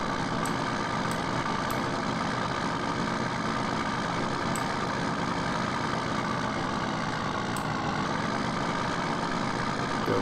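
A Ford F-350 single cab long bed truck idles in Farming Simulator 2015, a steady, dense engine drone running unbroken throughout with faint clicks on top and no voices.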